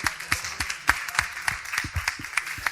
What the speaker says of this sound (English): Can we please give me a round of applause?